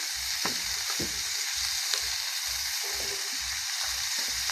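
An ingredient fries in a pan for adobong pancit, giving a steady bright sizzle over a regular series of low, rhythmic thumps from stirring, close and continuous.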